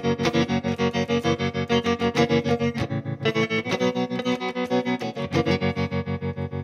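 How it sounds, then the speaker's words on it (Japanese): Electric guitar chords pulse with a fast, steady tremolo, the volume throbbing rapidly and evenly throughout; loud and close, with no speech. "このトレモロのダダダダって音が揺れるテンポを曲に合わせることによって"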